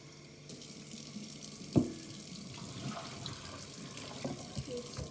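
Tap water runs steadily while a spare discus fish tank is rinsed out, a continuous splashing wash with one louder knock or splash near the start and small shifting bursts throughout.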